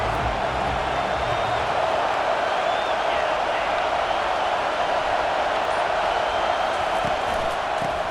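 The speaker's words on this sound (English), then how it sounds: "Decibels rising as the crowd gets behind this defense on 3rd down" A stadium crowd roars behind the defense on third down in a Tennessee football video game: a dense, loud, continuous wash of cheering that holds steady throughout.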